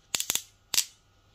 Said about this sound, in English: I like clicky lever and the clicky lever is really good.